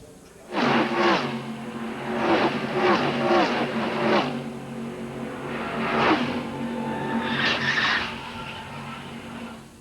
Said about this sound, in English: There we see the 16 car and Randall Ritter for all of a sudden just turned left, spun out.